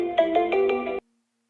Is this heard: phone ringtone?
yes